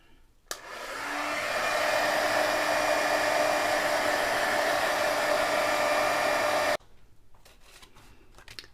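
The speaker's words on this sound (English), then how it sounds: "I will come in with my heating tool just to get it nice and dry." A heat tool blows steadily for about six seconds, drying alcohol ink on porous card stock, switching on with a click and cutting off abruptly, followed by faint handling noises.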